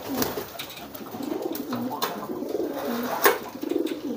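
Domestic pigeon (merpati) cooing in a loft, soft repeated low coos with a rolling rhythm, close by, amid faint rustling and occasional sharper clicks.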